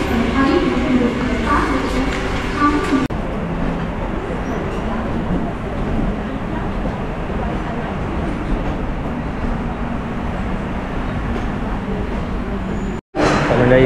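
A crowded Mumbai local train heads for Chhatrapati Shivaji Maharaj Terminus and stops near Masjid station. It gives a loud, continuous rumble and rattle of carriages, with background crowd chatter and a brief dropout near the end.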